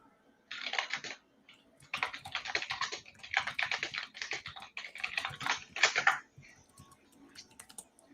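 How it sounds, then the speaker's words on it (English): Close, quick typing on a computer keyboard comes in bursts of rapid clicks separated by short pauses, with no talk over it. "Typing in all the questions in the chat too"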